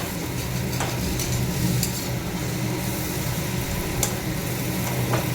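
Spices fry and sizzle in a pan while being stirred, giving a steady crackling hiss with occasional scraping and clinks of a utensil against the pan, no talking.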